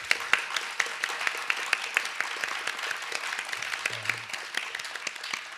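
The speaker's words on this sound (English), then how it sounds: "Can we give Deontay a round of applause?" Audience applause from a crowd at a public talk on the overdose crisis in Seattle, a sustained round of clapping with sharp individual claps standing out over the steady patter, no talk.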